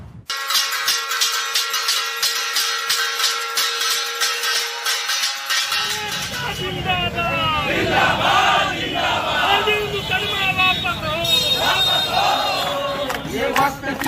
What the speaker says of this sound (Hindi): थाली ताली बजाते हुए उन्होंने जुलूस निकाला